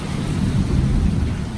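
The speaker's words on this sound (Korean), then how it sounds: "천둥 소리 들으시나요?" Thunder rumbles low and continuous through steady rain at a seaside cave shrine, a dense, broad roar filling the whole stretch with no voices.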